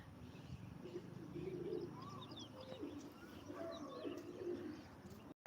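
Pigeons cooing and chirping at a loft as clouds roll in, soft repeated coos mixed with light twitters over low background noise, ending with a brief cut.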